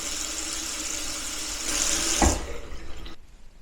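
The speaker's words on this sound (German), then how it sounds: "Das Wasser fließt." A bathroom sink tap runs in a steady, close rush of water that briefly grows louder, then shuts off and leaves near silence.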